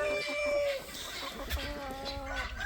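Chickens in a breeding bay clucking and squawking nearby, several overlapping calls over a couple of seconds with a faint background hum.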